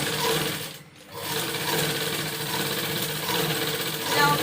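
A sewing machine runs steadily, stitching a seam on dress pants. It pauses briefly near the start, then resumes a continuous close, fairly loud mechanical whir.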